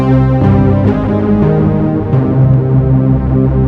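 A bright, polyphonic Arturia Jupiter 8 software synthesizer plays sustained chords with moving notes, full and steady in level, with no voices.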